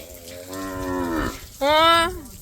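Cows mooing at milking time: two drawn-out moos in a row, the second higher and louder, close by, with no talking.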